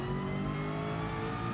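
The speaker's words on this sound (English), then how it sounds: "try to get on the throttle as early as possible" A race car in Gran Turismo Sport at Suzuka accelerates in first gear out of the hairpin, its engine a loud, dense, steady rising roar filling the whole short stretch.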